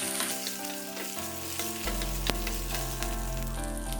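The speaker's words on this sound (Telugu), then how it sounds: "చింతపండు కూడా వేసుకొని కొద్దిసేపు వేయించుకుందాం." Tamarind frying in a kadai for an ajwain-leaf chutney gives a steady, close sizzle with a few brief scraping stirs and no talk, with a low hum underneath.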